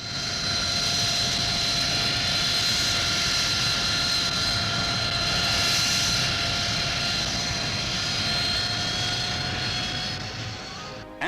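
Harrier jet with a Pegasus engine hovering, a loud, sustained roar with a steady high whine layered on top, holding nearly constant before cutting off abruptly at the end.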